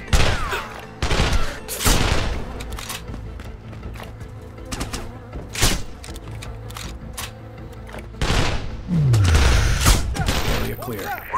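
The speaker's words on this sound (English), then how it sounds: "Pick them off with your rifle." Sniper rifle shots in Sniper: Ghost Warrior 2, several loud, sharp reports spaced seconds apart with quieter ambience and a radio voice between them, one shot followed by a descending whine.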